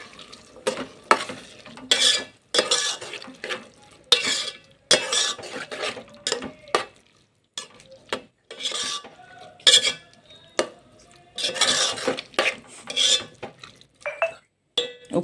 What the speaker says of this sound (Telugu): బాగా కలుపుకొని